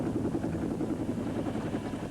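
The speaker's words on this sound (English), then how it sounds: "Lithgow's character, Quaylen, is approaching him with a helicopter" In a film scene, a helicopter approaching over a mountain abyss gives a steady, moderately loud rotor chop, a rapid pulsing thrum that holds through a short stretch.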